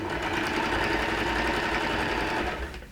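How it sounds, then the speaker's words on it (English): A sewing machine runs steadily for about three seconds, tacking pleated fabric onto the backing fabric of a draped fabric heart. The whirring stitching is close and loud, with no talk over it. "I'm just going to sew, switch on the machine"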